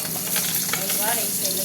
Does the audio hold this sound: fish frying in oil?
yes